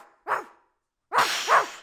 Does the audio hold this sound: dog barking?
yes